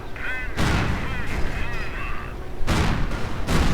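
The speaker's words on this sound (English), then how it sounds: "Taking heavy fire from the tank destroyers in the process though." Tank destroyers firing in a WWII strategy game, heavy booming cannon shots and rumbling battle noise, loud and continuous with repeated blasts, mixed with other in-game effects.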